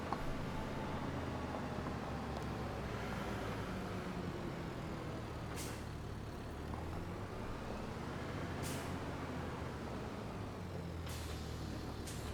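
A tractor drives in the video game Farming Simulator 25, its engine droning loud and constant, with several sharp hisses like air-brake releases breaking through at intervals.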